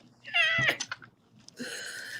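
A house cat meows twice indoors, a drawn-out wailing call followed after a short pause by a second bright, sustained meow, close and fairly loud in a quiet room.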